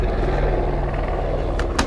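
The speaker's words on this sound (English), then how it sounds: "Cue helicopter." Helicopter sound effect dropped into a music review, a steady loud rotor drone holding throughout with a couple of brief sharp clicks near the end.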